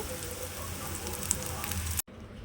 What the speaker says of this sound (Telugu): ఇంకొద్దిసేపు ఫ్రై అవనివ్వాలి. ఈ కాకరకాయ ఫ్రై అవడంలోనే ఉండిద్ది కాకరకాయ ఫ్రై.